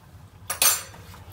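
A spoon mixing sauce for a beef mince dinner clinks sharply against the bowl in one brief, close clatter, surrounded by quiet.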